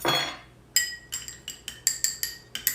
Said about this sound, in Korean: 스푼으로 이렇게 저어주시고 잘 저어주시고